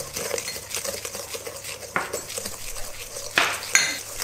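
A spoon stirs sugar in a pan for lemon butter, scraping and clinking against the metal in an uneven rhythm, close and moderately loud, with a few sharper knocks near the end.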